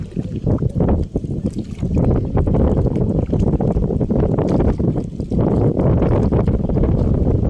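Strong wind roars and buffets the microphone in a constant low rumble, with gusts rising and falling and no clear voices.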